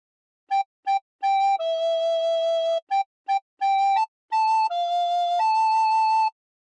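A recorder plays a simple phrase of the hymn How Great Thou Art: clear, pure whistling tones in short separate notes followed by longer held ones, alone and evenly paced with no talking.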